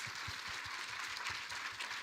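A church audience applauds, a faint, dense patter of many hands clapping evenly throughout, with no voices standing out.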